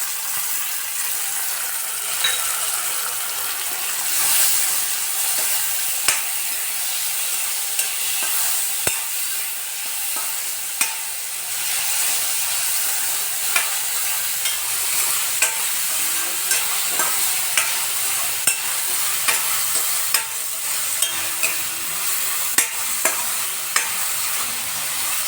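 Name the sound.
onion and tomato frying and being stirred in a pan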